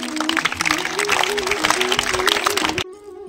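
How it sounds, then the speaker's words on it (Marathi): A crowd of schoolchildren claps loudly and continuously at a school cabinet election, dense and sustained applause close by, cutting off abruptly near the end. "टाळ्या सगळ्यांनी जोरात"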